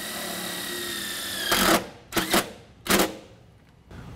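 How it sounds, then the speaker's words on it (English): A power drill drives self-tapping screws into a Chevy Express van bracket in three short whirring bursts, the first longest, each ending abruptly, after a steady hum at the start. "we're going to use the same number 14 1-inch long self-tapping screws to attach the bracket into"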